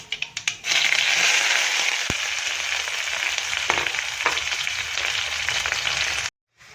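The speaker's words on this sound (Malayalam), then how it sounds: "കടുക് പൊട്ടിച്ചിട്ട് ഉള്ളി ഒന്ന് വഴറ്റിയെടുക്കണേ," Onion sautés in hot oil after mustard seeds have spluttered, making a loud, steady sizzle close by, with a few sharp pops at the start and occasional scrapes of stirring.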